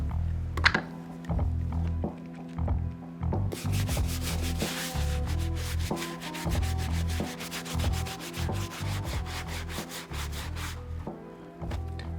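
A medium-bristle brush scrubs the midsoles and plastic heel piece of a worn Nike Kobe 6 sneaker, giving steady rhythmic rubbing strokes that are close and fairly loud, turning brisk and rapid partway through, with no voices.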